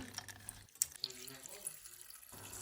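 Water runs from a tap and splashes as dried fruit is rinsed in a pot, quiet and close, with a brief clatter partway through.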